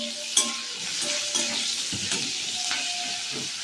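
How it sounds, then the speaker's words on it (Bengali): Onion, garlic and a green chilli fry in oil with already-browned dried chilli, a steady close sizzle broken by several spatula knocks and scrapes against the pan. "আমার কাছে আছে পেঁয়াজ দিলাম, শুকনো পেঁয়াজ, রসুন আর একটা কাঁচা লঙ্কা এর মধ্যে দিয়ে দিলাম।"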